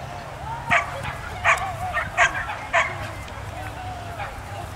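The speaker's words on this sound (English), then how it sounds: "That's his first bark so far." A high-drive dog barks four times in short, evenly spaced yips over steady background noise, fairly close.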